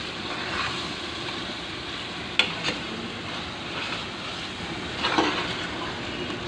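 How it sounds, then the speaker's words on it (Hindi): Cluster beans (guar pods) frying in a pan with a steady, even sizzle throughout, broken by a couple of brief clinks of a spoon stirring and mixing them. "अच्छी तरह भूनेंगे, मिक्स करेंगे"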